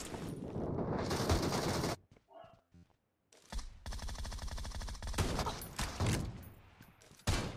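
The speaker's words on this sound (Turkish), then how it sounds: "Nasıl oradan beni vuruyor?" Dense bursts of automatic gunfire in the battle royale game PUBG Mobile, loud and continuous with a brief pause in the middle, then rapid firing resumes until a final sharp shot.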